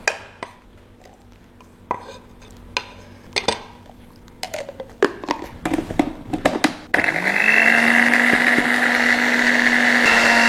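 Knife chops sound as sharp, irregular knocks. Then a blender starts and grinds turmeric and ginger into a spice paste with a loud, steady whirring drone that runs to the end.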